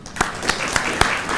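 An audience gives a round of applause at a consultative meeting on the refugee situation in Nairobi, with steady, moderately loud clapping and a few sharper individual claps standing out.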